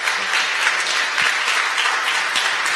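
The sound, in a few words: audience applause for a speaker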